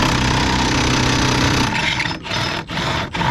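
Impact wrench taking motor mount bolts off a 2000 Honda CR-V during a timing belt job, a loud, close, continuous rattling burst that cuts out in short breaks near the end.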